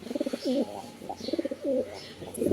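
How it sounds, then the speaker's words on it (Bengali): A female Afsan grizzle racer pigeon coos in soft, repeated rolling phrases close to the microphone, with short pauses between bursts and no talking. "এইটা একটা মাদি কবুতর"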